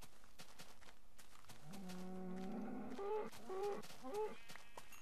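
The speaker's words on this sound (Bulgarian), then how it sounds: "Виждате колко много крави и овце." Minecraft cows lowing in the video game, a few drawn-out moos in quick succession, faint and quiet over a low background, with no talking.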